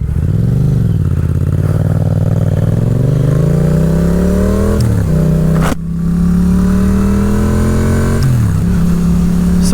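Yamaha XSR700 motorcycle ridden on a test road, with a loud, continuous engine drone that rises and falls through gear changes, and a brief dip midway.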